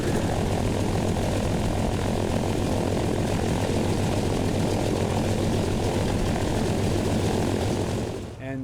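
A 1941 Lockheed Electra Junior propeller aircraft at Duxford drones loudly and steadily, a thick continuous engine roar that holds throughout and then drops away abruptly at the end.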